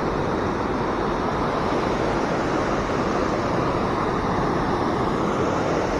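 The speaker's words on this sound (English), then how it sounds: "There's the river down there." A river rushes somewhere below a gorge, heard as a dense, constant roar of flowing water with no breaks.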